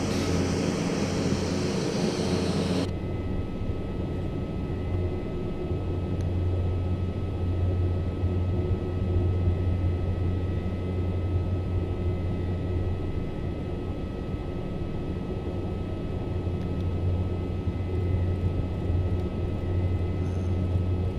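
A small aircraft's engine in Microsoft Flight Simulator 2024 drones steadily and loud on a short 2,600-foot runway, a low constant hum with wind-like hiss, after a brief brighter burst at the start.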